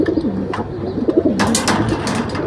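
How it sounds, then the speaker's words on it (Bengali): Pigeons coo in soft, repeated throaty phrases close by, with a few brief rustles and higher chirps near the end. "এগুলো হলো এক পাঠা কবুতর"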